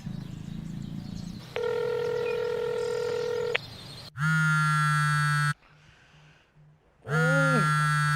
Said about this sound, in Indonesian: Coba Lin kau telepon